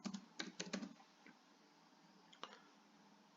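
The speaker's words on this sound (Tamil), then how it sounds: "இந்த சர்ச் பாக்ஸில் நீங்கள் ரெஷ்யூம்னு டைப் பண்ணுங்க." Fingers tap out a word on a computer keyboard into a Canva search box, a quick burst of crisp key clicks up front followed by a lone keystroke or two later, close and fairly quiet with no talk.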